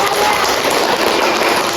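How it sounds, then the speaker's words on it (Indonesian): A group applauds in a midwifery teaching session, a dense, steady patter of clapping that lasts briefly and is fairly loud. "Tepuk tangan."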